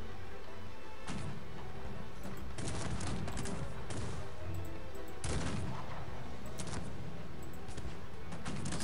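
Gunfire from enemies firing from behind a wall in the strategy game Cossacks 3, with dense overlapping musket volleys and sharp individual shots cracking repeatedly over a continuous battle din, with no talk.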